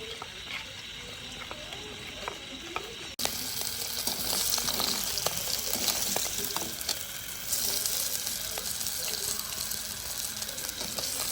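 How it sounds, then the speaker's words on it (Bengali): Nigella seeds and slit green chillies hit hot oil in a pan for a spicy khoyra fish curry, and a loud, crackling sizzle bursts in suddenly and keeps going after a quieter opening. "এবার তেলটার মধ্যে সবার প্রথমে দিয়ে দিচ্ছি কালো জিরে ফোড়ন হিসাবে তার সাথে দিয়ে দিচ্ছি চেরা কাঁচা লঙ্কা"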